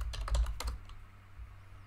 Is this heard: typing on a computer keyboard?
yes